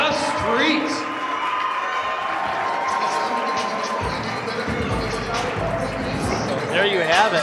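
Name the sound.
wrestling crowd cheering for the tag team champions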